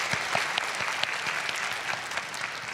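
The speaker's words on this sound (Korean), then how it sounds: "우리 같이 박수하도록 하겠습니다" Church congregation at a Sunday young adults' worship service applauds together, a continuous dense patter of many hands with a few sharper claps standing out.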